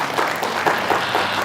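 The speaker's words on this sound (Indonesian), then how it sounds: "Tepuk tangan dulu buat Al-Amin." Audience applause for Majelis Taklim Al-Amin at a religious study gathering, a short burst of steady clapping throughout.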